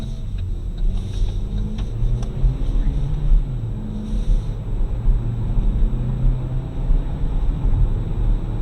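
A 2019 Chevrolet Equinox Premier accelerating on the road, with a steady low engine and road rumble from inside the cabin. The drone holds a constant level under faint background noise throughout.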